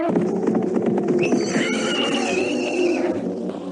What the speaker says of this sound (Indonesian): Tolong kau tambatkan kuda ini.